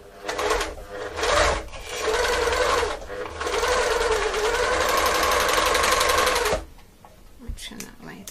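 A serger stitches a test sample on fine woven organza fabric at differential feed setting two, running in a loud, rapid mechanical whir with short stops and restarts, then falling quiet near the end.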